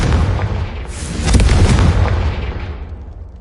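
The Confringo blasting spell in Hogwarts Legacy sets off a loud, close explosion: a deep booming burst that swells after a brief build-up, then rumbles and fades over a couple of seconds.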